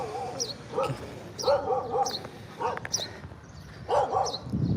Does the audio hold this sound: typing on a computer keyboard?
no